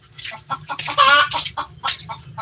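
A chicken clucking close by, with a run of loud, choppy clucks and squawks under a steady low background hum, in a home setting during a live cooking broadcast.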